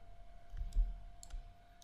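A computer mouse gives a few quiet, sharp clicks while working in Rhino 3D on a jewelry CAD design, spaced unevenly in an otherwise hushed room.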